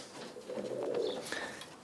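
Roller pigeons in their nest boxes give a soft, low cooing murmur that swells through the middle and then trails off, close by with no talking.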